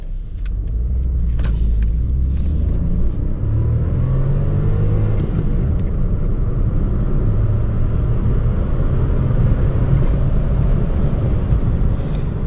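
Close, continuous rumble of a three-cylinder Honda Insight (Mk1) engine pulling hard, pitch rising and dropping as it shifts through gears, with road noise throughout.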